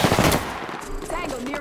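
A short burst of rapid automatic gunfire in the video game BR Legend, loud and close at first, then fading into quieter game sounds with a voice faintly heard.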